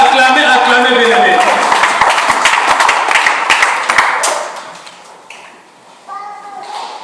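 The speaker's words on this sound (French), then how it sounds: "Acclamez plus fort pour nos frères" A church congregation claps steadily and loudly for several seconds beneath a preacher's voice and singing, with the rhythmic claps fading out toward the end.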